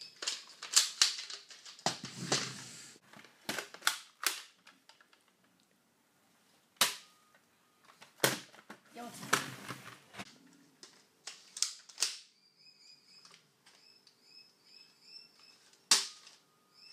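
Nerf blaster in a game of Russian roulette, giving sharp, isolated clicks and snappy pops spaced irregularly across the clip, close and fairly quiet with near silence between shots.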